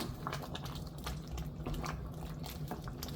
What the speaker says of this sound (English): And stir.